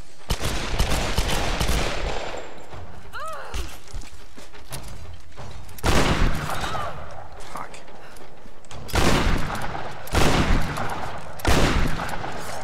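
Salvaged shotgun gunfire in Tomb Raider, with heavy broadband blasts recurring through combat against undead enemies, loud and close, mixed with game effects and someone talking over it.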